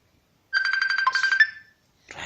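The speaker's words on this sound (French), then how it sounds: "Téléphone anao misy mangaiky." A phone ringtone rings as a clear repeating electronic melody of rapid pulsed tones, loud and close, lasting about a second before stopping, with a brief noise burst following.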